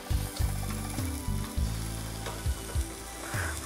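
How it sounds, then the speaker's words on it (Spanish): Sliced leeks sauté in a frying pan, a steady close sizzle broken by repeated knocks and scrapes of stirring, with no voices. "Y los vamos a ir poniendo en la sartén para saltearlos."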